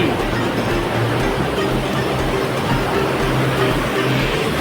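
Satluj River floodwater surges through the opened flood gates at the Ropar headworks, a dense, continuous rushing roar of heavy water, loud and steady with no pauses or voices.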